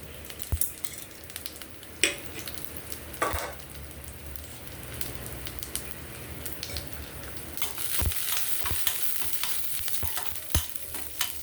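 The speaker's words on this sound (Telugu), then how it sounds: "ఆయిల్ కాగిన తర్వాత పచ్చనిపప్పు మినపప్పు జీలకర్ర వేసుకొని వేయించుకుందాం" Chana dal, urad dal and cumin seeds fry in hot oil for a Telugu tomato-mint-coriander roti chutney. A steady low sizzle runs throughout, with sharp scraping clicks from a spoon stirring the pan at intervals. No voices.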